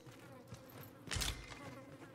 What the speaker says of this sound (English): sound of flies buzzing around a corpse